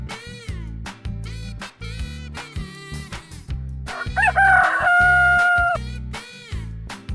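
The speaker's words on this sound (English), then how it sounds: "Rooster." A rooster crows once over steady, rhythmic background music, its long drawn-out call rising and holding in the middle of the passage, loud and close.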